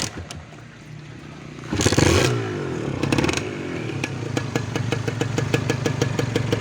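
A Kawasaki Ninja 150 SS motorcycle engine with stock exhaust and carburetor cranks and catches, then settles into a steady, rapid idle with a rattling, popping exhaust, heard up close.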